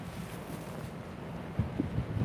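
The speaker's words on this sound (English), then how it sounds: "We got windy" Steady low rumbling wind buffeting a microphone, constant and broadband with a few stronger gusts toward the end.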